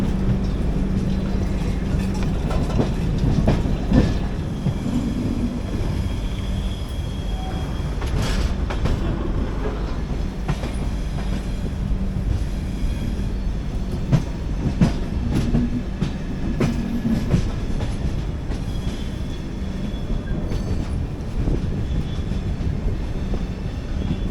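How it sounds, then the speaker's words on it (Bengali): Howrah–Bangalore Duronto Express approaching: continuous rumbling train noise with rhythmic clickety-clack of wheels on rails, steady and loud throughout. "দূরে ওই ট্রেনটা সাপের মতো এঁকে বেঁকে আসছে"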